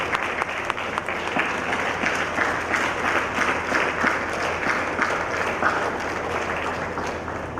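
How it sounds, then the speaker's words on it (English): Standing applause from a medical conference audience fills the hall, continuous, dense clapping at a steady, loud level from start to finish. "I would request the House to give her a standing round of applause."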